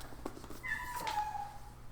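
A kitten gives one soft, drawn-out meow that rises and then trails off, heard close by against a quiet room hum.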